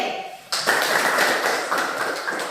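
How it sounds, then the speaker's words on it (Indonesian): A classroom applauds for a student group, a burst of clapping starting about half a second in and continuing steadily to the end after a quieter lead-in. "Tepuk tangan untuk kelompok D."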